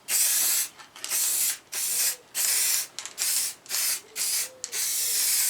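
Spray gun laying paint onto a Triumph bash plate, close hissing bursts in repeated short passes of about half a second each, separated by brief gaps, with no talking.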